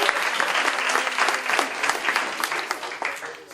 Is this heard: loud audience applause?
yes